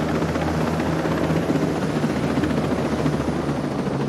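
A military helicopter flies in Ghost Recon Wildlands, its steady, loud rotor drone and engine roar filling the whole stretch without talk.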